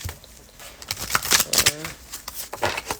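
Cards riffle-shuffled several times in quick succession, crisp and close, with some speech around the shuffling.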